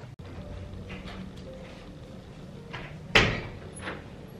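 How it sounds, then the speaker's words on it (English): A door closes with one sharp, loud thud about three seconds in, after some quieter shuffling and light knocks, then the room settles into low background noise. "Why you close the door?"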